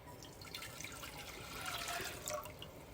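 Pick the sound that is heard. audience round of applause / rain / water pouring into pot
water pouring into pot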